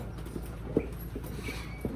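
Horse hooves clop faintly and sparsely on the ground, a few separate knocks over a low background hum, with no voices.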